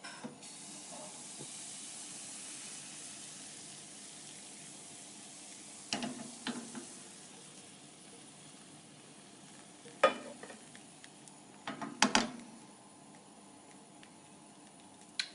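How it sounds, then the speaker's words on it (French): Crêpe batter cooks in melted butter in a crêpe pan, giving a faint, steady hiss with a few scattered clicks of a utensil against the pan. "Je commence par faire fondre une noisette de beurre dans ma poêle à crêpes. Et j'ajoute une louche de pâte à crêpes."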